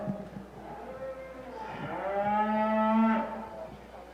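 A heifer moos once at a cattle show, a rising, drawn-out bellow lasting about two seconds that swells loud and close before cutting off, over a low murmur of background noise.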